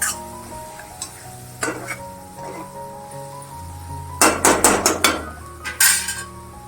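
Spices for a broad beans gravy are sautéed in a pan, a soft sizzle running underneath while a spoon scrapes and knocks against the metal in bursts, including a quick rhythmic series of clatters near the end.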